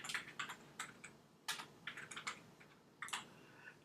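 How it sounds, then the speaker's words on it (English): Keys clatter on a computer keyboard in quick, soft clusters of taps with short gaps between them, faint and close, with no voices. "I'm just simply going to type that in."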